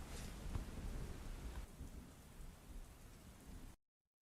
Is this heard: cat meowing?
no